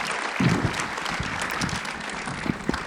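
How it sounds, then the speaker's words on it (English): Audience applause at an awards-style event honoring commercial director nominees, a moderate burst of clapping with a louder swell near the start, steady through the rest and with faint voices mixed in. "Should we give another round of applause to that?"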